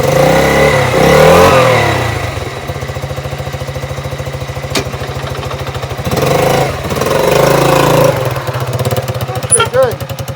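A Raptor 80 engine pulling away in first gear on its first ride, with a loud, rapid putter and revving that rises and falls, and people talking over it.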